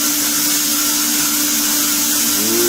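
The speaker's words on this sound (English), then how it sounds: "That noise you heard, by the way, was the compressed air going through the air track." Compressed air rushing steadily through a physics lab air track, a loud continuous hiss with a constant low hum beneath it. The noise holds even and close for under three seconds, with no voices.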